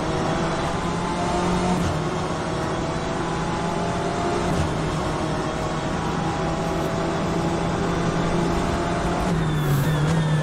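Engine of a BMW M8 GTE race car in the rFactor 2 racing game at Sebring, a loud continuous drone with rising pitch, a downshift and renewed revving near the end.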